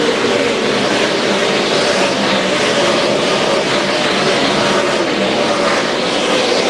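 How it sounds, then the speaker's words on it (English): NASCAR Craftsman Truck Series trucks race at Mansfield in the Ohio 250 after a restart, a dense, loud, continuous engine roar of the pack filling the whole span with no break. "The green flag in the air, and we're racing once again in Mansfield."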